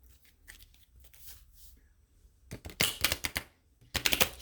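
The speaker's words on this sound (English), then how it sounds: "let me get a few shuffles of these real quick" A light tarot card deck is shuffled by hand in two quick crisp riffling bursts, each a rapid flutter of cards, after a quieter stretch of faint rustling and handling.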